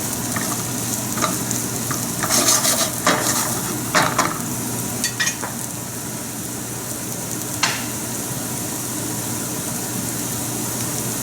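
Chopped jalapenos fry in a cooking pan with a constant loud sizzle, while a utensil stirs and scrapes against the metal in short bursts.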